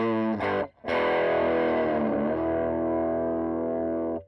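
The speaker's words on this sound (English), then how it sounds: "it switches the bridge humbucker pickup from a series configuration to parallel" Enya Inspire electric guitar with a carbon fiber composite body, its bridge humbucker switched to parallel, plays a distorted chord that rings out, is briefly cut, then sustains loudly with a slight wavering before fading.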